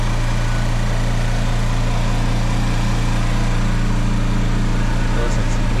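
An air compressor runs steadily while building pressure, a loud, close, continuous motor drone with strong low hum and a constant hiss across the range, unchanging throughout.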